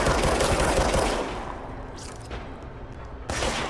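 Rapid automatic gunfire in the video game Control, loud bursts at first that thin out, then a fresh burst near the end, with no talk.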